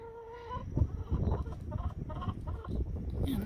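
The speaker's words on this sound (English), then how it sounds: "So yeah, there's my little chickens." Backyard chickens cluck and chatter continuously near a coop, soft and close, with a steady low rumble of wind or handling noise underneath.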